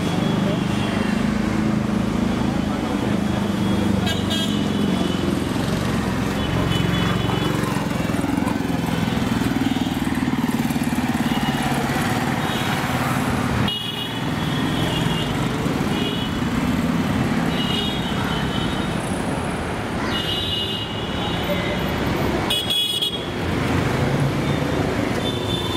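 Busy street traffic on Sind Road in Mumbai, India, a constant dense roar of cars, motorbikes and engines close by, with occasional sharp horn blasts and voices talking over it.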